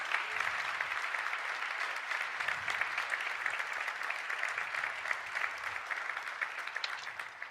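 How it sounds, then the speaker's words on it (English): Sustained applause from a conference audience at a world summit, a dense steady patter of many hands clapping without pause, moderately distant with no talk over it. "Final round of applause to recognize the good work done this morning."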